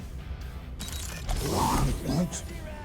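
In the Guardians of the Galaxy video game, a door mechanism creaks and grinds open with mechanical clunks and a short hiss over a low ambient game hum.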